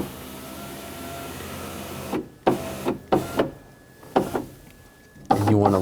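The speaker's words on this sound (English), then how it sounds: "With the ignition on, we're going to lower the window" Rear electric window on a 2000-2006 BMW X5 running down with the ignition on: a steady motor hum for a couple of seconds, then several sharp knocks and clunks close by.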